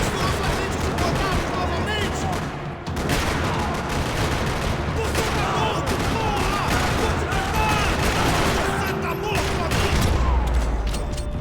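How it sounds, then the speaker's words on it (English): Dense gunfire rattles through a parking lot shootout in the video game Max Payne, loud and continuous with overlapping shots and game voices mixed in throughout. "Another parking lot rattling with gunfire."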